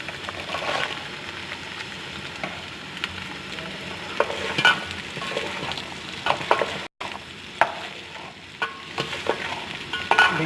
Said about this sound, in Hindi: भिंडी को इतना फ्राई करना है तेल में